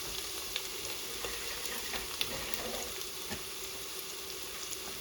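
Half a chopped onion sizzles in a pan with garlic cloves for a home-style chicken saag curry, making a steady close frying hiss with small pops and no talk.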